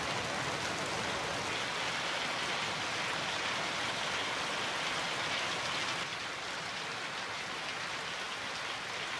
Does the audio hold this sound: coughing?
no